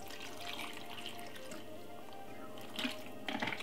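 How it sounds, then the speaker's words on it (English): Water trickles into a smoothie blender jar, a faint, quiet pour with soft splashes, ending in two brief louder bursts of splashing. "we're just gonna pop a little bit of water in it"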